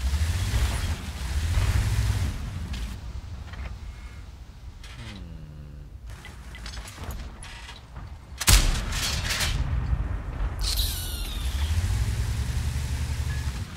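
Tank cannon fire and mechanical clatter in World of Tanks from a British FV217 Badger tank destroyer: a low engine drone with creaks and one hard, sudden cannon blast partway through, followed by rumbling and mechanism noise.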